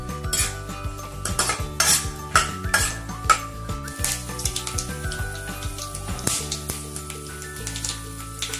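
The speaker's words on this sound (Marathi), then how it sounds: "मोहरी, शेंगदाणे चांगले परतून घेऊया।" Mustard seeds and peanuts fry in a pan while a utensil stirs them, giving steady scraping and clinking of metal on the pan under a faint sizzle. The noise is close and busy, with no voices.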